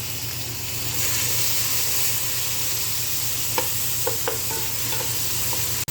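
Tomatoes sizzling and frying in a pan, a steady close hiss throughout with a few soft stirring clicks and scrapes near the end; no voices.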